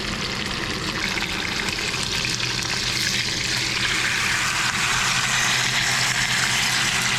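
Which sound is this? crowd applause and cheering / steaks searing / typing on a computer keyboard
steaks searing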